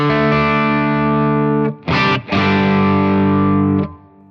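Electric guitar driven through a Protein v4 overdrive pedal rings out in long sustained distorted chords, loud and close, with a short break and a quick restrum near the middle before the sound cuts off.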